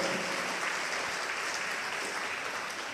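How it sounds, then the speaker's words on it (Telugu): Dense, steady audience applause at a church fasting sermon, a broad crackling wash of many hands clapping close and loud for the full length without a break. "గట్టిగా చప్పట్లు కొట్టండి"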